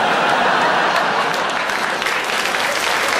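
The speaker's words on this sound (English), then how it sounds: "But no, don't clap. It's too sad." Comedy show audience applauds in a dense, steady wash of many hands clapping, loud and continuous for a few seconds with a faint murmur of laughter underneath.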